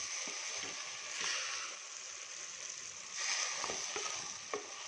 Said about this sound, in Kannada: ಎಣ್ಣೆಯಲ್ಲಿ ತರಕಾರಿ ಎಲ್ಲ ಫ್ರೈ ಆಗಲಿ